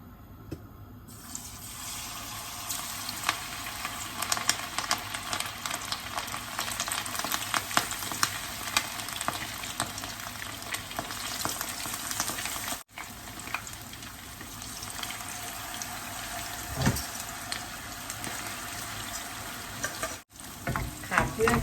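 Steady, dense sizzling of salmon frying in hot oil over low heat, continuous and close, with faint crackles throughout.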